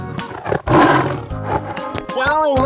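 A tiger in a 3D animal sliding game lets out a growling roar, loud and near, followed by a rising whine-like cry, with busy game noise around it and no clear speech.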